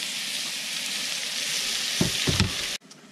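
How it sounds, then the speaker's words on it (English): Onion sautés in melted butter and oil in a pan at a winter campsite, giving a steady close sizzle with a few stirring scrapes near the end before it cuts off abruptly. "Now that my onion is pretty much sauteed"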